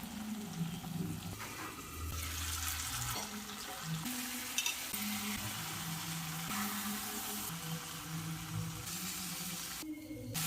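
Prawns frying in oil in a pan for Kerala chemmeen peratu once the water has cooked off, a steady, quiet sizzle with occasional stirring.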